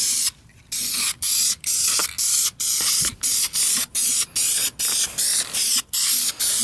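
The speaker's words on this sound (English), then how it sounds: "Especially if you're spraying a tacky paint" Aerosol can spraying tacky trim paint in repeated short hissing bursts, about a dozen quick presses with brief pauses between them, close and loud, with no talking.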